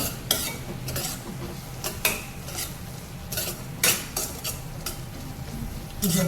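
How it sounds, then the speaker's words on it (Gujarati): A spoon stirring chili and spice masala in a pan, sharp metallic scrapes and knocks against the pan at an uneven pace over a faint, low sizzle, close by and without any talk. "બધું મિક્સ કરી દઈએ મસાલો."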